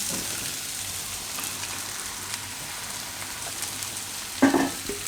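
Karela curry sizzles and fries steadily in a pan at low volume while mango pieces go in, ending in a brief clatter near the end.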